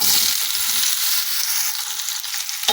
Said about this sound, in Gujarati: હવે આપણે જે તુરિયા સમાર્યા એ વઘારી દેવાના